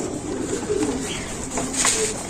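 Pigeons coo softly and repeatedly in a loft, low murmuring calls layered over a steady background hiss, with a brief brighter chirp near the end.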